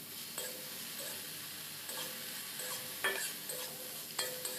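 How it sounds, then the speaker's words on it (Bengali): Eggplant pieces frying lightly with turmeric powder in a pan for a Bengali fish curry, a steady soft sizzle with several sharp stirring scrapes spaced through it; no talking. "হলুদ গুঁড়ো দিয়ে দিচ্ছি, হলুদ গুঁড়ো দিয়ে একটু হালকা একটু ভেজে নেব।"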